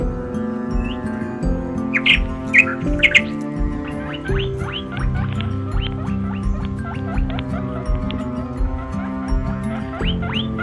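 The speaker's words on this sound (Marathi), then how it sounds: "वेगवेगळ्या पक्ष्यांचे, प्राण्यांचे आवाज आम्हाला येत होते" Assorted birds chirp and call repeatedly along a forest stream fed by a waterfall, with a steady low rush of water underneath throughout.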